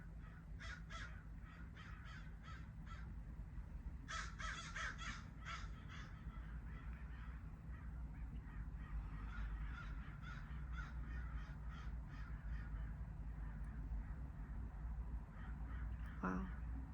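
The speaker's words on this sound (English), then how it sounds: "There must be 20 plus birds flying over my head right now." A flock of twenty or more crows passes overhead, their caws coming in scattered clusters from a moderate distance over a steady outdoor rumble, with no one talking.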